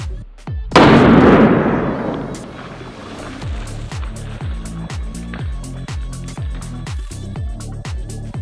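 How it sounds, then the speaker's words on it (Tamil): A Diwali firecracker bomb from Sivakasi bursts under water with one loud, close blast, followed by a string of sharp, rhythmic pops as smaller crackers go off one after another. "இத தண்ணிக்குள்ள போட்டாலும் வெடிக்கும்"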